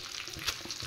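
Whole cumin seeds, dried red chillies and bay leaves hitting oil left over from frying prawns, a brief, close, bright crackling sizzle.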